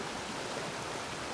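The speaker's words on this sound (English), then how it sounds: "now it is pouring raining outside" Heavy rain pouring outside during a stormy, windy night with a tornado warning, heard as a faint, even hiss of steady downpour through a short stretch, with no talking.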